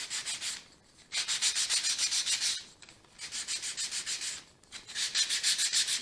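Wood being sanded by hand with 220-grit sandpaper on a sanding block, a close, steady rasping in long back-and-forth strokes with short pauses between passes, no talking.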